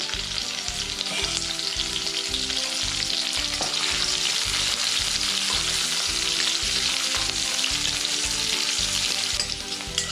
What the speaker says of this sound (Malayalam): എണ്ണ ഒന്ന് ചൂടാകുമ്പോൾ ഇതിലോട്ട് ഇഞ്ചിയും പച്ചമുളകും വെളുത്തുള്ളി അരിഞ്ഞിട്ട് കൊടുക്കാം